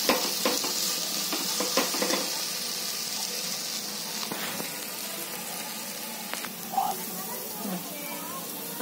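Peanuts sizzle in a pan for spicy green chili thecha, light frying crackle with sharp stirring clinks of a utensil against the pan, and a voice speaking briefly partway through.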